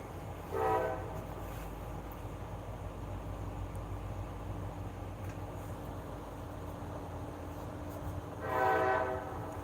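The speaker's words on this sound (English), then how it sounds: "you see, I heard a train." A train horn sounds twice, a short blast near the start and a longer one near the end, over the steady rumble and roll of a passing train.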